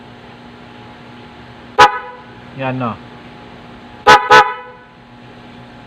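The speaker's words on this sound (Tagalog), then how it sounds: "Loud horn lang siya." A car horn blares once, then twice in quick succession, loud and close, with a brief spoken phrase in between.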